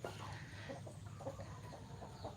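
Six-month-old breed chickens give faint, scattered short clucks over a low background hum, several soft calls spread through a couple of seconds.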